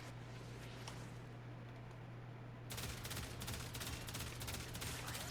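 A Tiberon Prime rifle fires in Warframe, rapid steady bursts that grow denser halfway through, a continuous rattling stream over a constant low hum.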